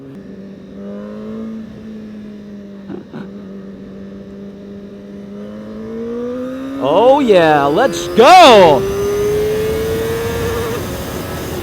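A CFMoto 450SR motorcycle engine hums steadily, then revs up hard with rising, loud acceleration sweeps toward the end, while a rider's excited voice shouts over it.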